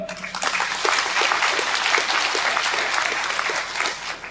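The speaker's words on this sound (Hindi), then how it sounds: "ताली बजा दीजिए एक बार।" Congregation clapping at a Christian prayer gathering of the Khunti Diocese, a steady wash of many hands applauding together for several seconds at moderate loudness, fading slightly at the end.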